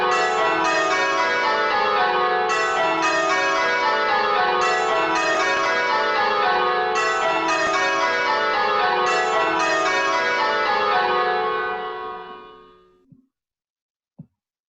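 Church bells, more than four in the tower, ring a roll up off the back, with the bells at the back rolling up under steady overlapping strikes that sustain for about twelve seconds before fading, then two faint late taps.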